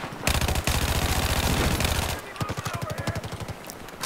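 Rapid automatic fire from an MTAR-21 rifle in Battlefield 4: a long, loud, close burst of fast shots, a brief pause, then a second burst in choppier, uneven stretches.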